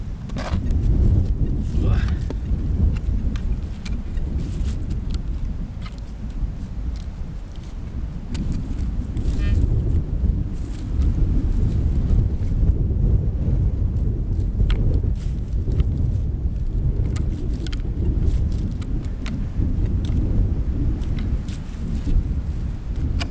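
Wind gusts across an open field, producing a low, rumbling buffet that rises and falls for the whole stretch, with a voice occasionally audible beneath it.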